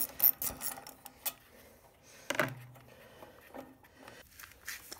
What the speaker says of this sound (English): we're just going to undo the 2 10 millimeter bolts.